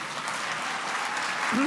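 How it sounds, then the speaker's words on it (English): Audience applause at a city inauguration ceremony in Somerville, a steady wash of clapping held at moderate level for under two seconds, with a faint voice at the very end. "it does deserve a clap"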